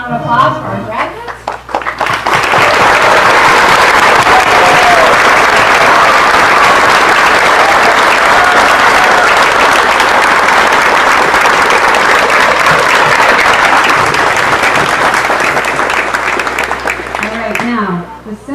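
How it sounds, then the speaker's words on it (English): Sustained audience applause for eighth-grade graduates at a school graduation ceremony, steady dense clapping filling the hall for most of the stretch after a brief lead-in, fading near the end. "let's have a huge round of applause for our graduates."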